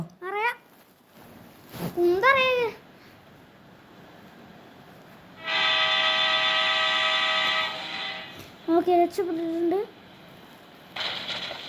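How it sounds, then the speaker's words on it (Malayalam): A train in the video game GTA 5, with its horn sounding in long loud blasts among game effects, while children talk excitedly over much of the action. "എനിക്ക് ട്രെയിൻ ഓടിക്കറിയോ?"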